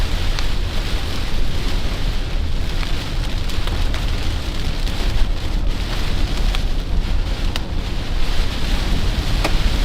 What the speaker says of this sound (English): now we're just in rain again